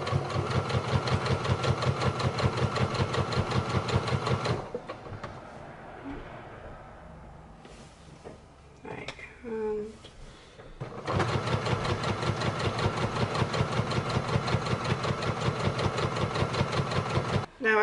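A sewing machine stitching fabric close to the edge runs in a fast, even rhythmic chatter for a few seconds, pauses amid quiet handling noises, then resumes at the same rapid pace.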